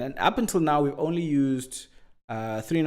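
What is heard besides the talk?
No distinct noise like a dog, phone or traffic.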